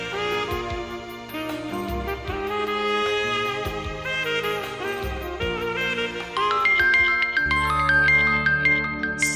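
A mobile phone rings in a Hindi television serial, a chiming melodic ringtone that plays steadily and grows brighter toward the end, with no talking over it.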